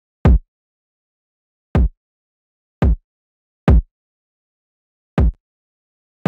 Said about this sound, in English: I just came up with a very simple but effective drill kind of kick pattern